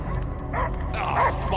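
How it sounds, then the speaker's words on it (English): A dog barks and yips a few times at moderate distance in the video game Guardians of the Galaxy, over a low ambient hum, without anyone talking. "I hear only barking."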